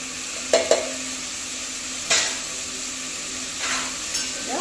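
Tomatoes with turmeric, chili powder and sambar powder fry in a pan with a steady close sizzle. A few scraping stirs of the spoon rise above it, and no one speaks.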